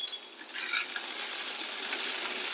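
Finely chopped onions dropped into hot oil in a pan for stuffed mushroom bondalu, a bright sizzle bursting briefly, then settling into a steady, close frying hiss.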